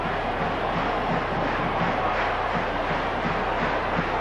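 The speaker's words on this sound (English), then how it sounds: "Brings the crowd here at Autzen Stadium to its feet once again." A stadium crowd roars at Autzen Stadium after an Oregon Ducks touchdown at a 1995 college football game against Illinois, with a steady, loud, unbroken wall of cheering.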